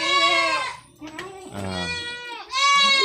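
A noisy young goat bleating loudly in a pen, several wavering cries in quick succession close by, with a brief spoken word between them.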